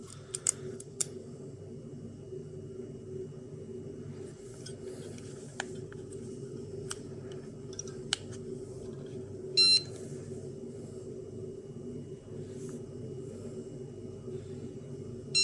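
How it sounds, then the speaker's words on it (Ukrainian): An Atom-scan radiation dosimeter (Geiger counter) runs its self-test: a short, sharp electronic beep burst stands out midway over a steady low hum, with scattered faint clicks. "повністю весь світлодіод загорається, вібратор вмикається звук"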